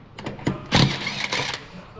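An impact wrench zips lug nuts off the wheel of a 2023 Chevy Camaro 1LE during a winter tire swap, loud close rattling bursts with brief pauses between them.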